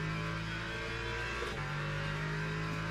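A race car engine in the game Le Mans Ultimate holds a steady high drone with a gear-shift dip midway, continuous and close, like in-game driving audio.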